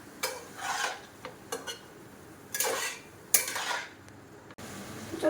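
A utensil scrapes and clinks against a pan while boiled chicken stew with vegetables is stirred, with short bursts of scraping separated by pauses, close and moderately quiet.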